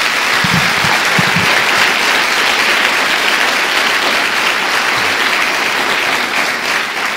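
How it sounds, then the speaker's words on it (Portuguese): A church congregation applauds, dense sustained clapping that stays loud and even from start to finish, with a few brief low vocal sounds early on and no clear speech. "Dê uma salva de palmas ao Senhor."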